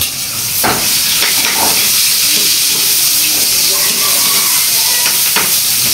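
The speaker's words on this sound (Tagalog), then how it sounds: "lutong kamatis na may tilapia" Tilapia with tomatoes, ginger, onion and garlic frying in a pan, a loud continuous sizzle and hiss with a few stirring scrapes, heard alone.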